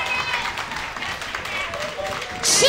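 A burlesque and cabaret audience at The Peacock Lounge claps steadily as a dense wash of applause, fading slightly before a louder burst near the end, with a voice talking over it.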